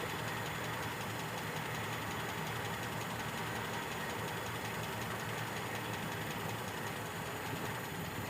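A Toyota Kijang engine idles steadily with a constant mechanical hum and faint ticking during carburetor adjustment, continuous and even throughout with no talking.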